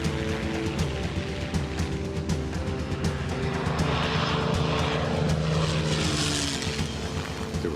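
A P-51 Mustang's piston engine roars at full throttle, a loud, sustained propeller drone with a deep throbbing rumble that swells slightly, with no voices.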